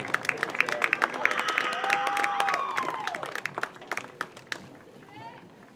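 Audience clapping and cheering for a senior women's soccer player at a Southern Virginia University home game, a steady burst of applause that swells and then thins into scattered claps, with crowd voices and a whistle-like tone mixed in.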